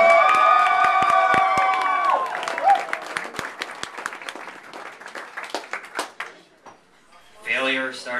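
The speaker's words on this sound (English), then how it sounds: "big round of applause for your first contestant tonight" A stand-up comedy crowd in Minneapolis bursts into cheering, whoops and applause over a loud opening, then the clapping scatters and fades, and a performer's voice briefly takes over near the end.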